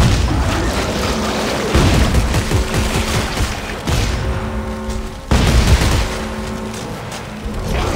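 Loud sustained gunfire in Dead Space 3, with rapid bursts and heavy booming shots firing almost without pause across several seconds.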